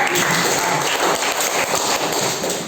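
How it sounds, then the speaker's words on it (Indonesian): Classroom applause for a student group, a dense, steady burst of many hands clapping together, close and loud, lasting a few seconds. "Beri tepuk tangan kepada kelompok."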